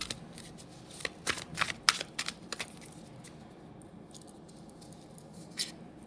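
A tarot card is pulled from the deck with soft papery slides and flicks, a short cluster of light card sounds up close over quiet room tone, then mostly stillness.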